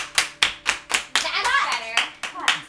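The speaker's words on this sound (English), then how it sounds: "Everybody clap their hands." A small group claps hands in an uneven rhythm, sharp close claps with a brief burst of faster clapping in the middle, and a voice is heard speaking.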